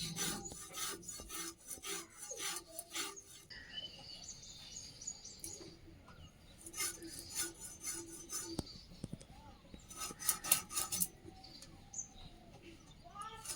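A knife rasps scales off a parshe fish (mullet) in a kitchen: close, repeated scraping strokes in rhythmic bursts with pauses between, and faint bird chirps in the background.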